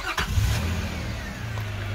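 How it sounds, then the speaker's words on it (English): A 2004 Nissan Elgrand E51 camper van with a 3.5 V6 cranks and fires via its twist keyless start, a brief starter whir settling into a steady, smooth low idle close by. "Silky smooth V6 engine, idles beautifully"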